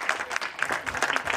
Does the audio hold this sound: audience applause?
yes